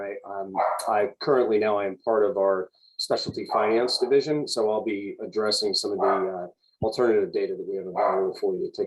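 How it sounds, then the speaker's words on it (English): Dogs bark in the background of a home office while someone speaks continuously on a webinar call, their sharp yaps breaking through intermittently under his voice. "I apologize for the background noise. The timing is always perfect with the dogs."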